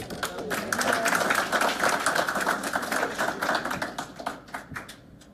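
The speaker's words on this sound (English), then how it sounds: "And one more round of applause, yes." A room of people applauds students at a board of education meeting, a dense, steady patter of many hands clapping close by that thins out and fades toward the end.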